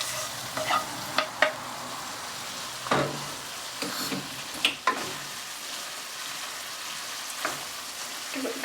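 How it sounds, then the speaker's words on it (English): Mushrooms being stirred into a cheeseburger casserole mixture in a pan, with repeated scraping and clanking spoon strokes over a soft sizzle, close and fairly quiet, with no talking. "Give it a good stir."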